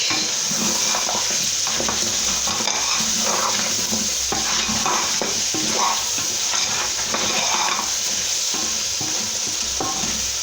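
Beef frying with natural spices in a pan, stirred steadily for about ten seconds: a continuous close sizzle with repeated scraping and clattering of the spoon against the pan.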